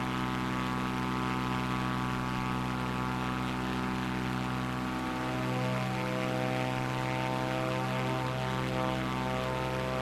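A propeller aircraft engine in Microsoft Flight Simulator 2024 runs at high RPM, a loud, steady buzzing drone with strong harmonics. Its tone wavers slightly partway through and it continues unbroken throughout.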